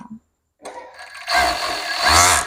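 A sewing machine stitches a seam on lingerie fabric: a short click and a pause, then the motor whirs up into a loud, steady buzzing run that lasts to the end.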